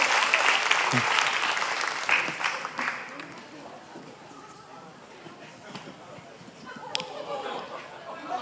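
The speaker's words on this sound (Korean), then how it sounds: "우리 모두에게 박수 한번 주시겠습니다" Clapping from a church congregation during a fitness-themed testimony meeting, loudest at the start and thinning into scattered claps and murmuring chatter, with a few sharper knocks near the end.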